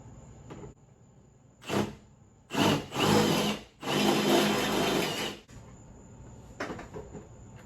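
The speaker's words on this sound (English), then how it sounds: "after I drill it out with a smaller bit, I just use my chase bit" A power drill bores holes during a Metalcloak install on a Jeep Wrangler JL Rubicon 392, several short whirring bursts close by, the longest lasting a couple of seconds, separated by quiet gaps.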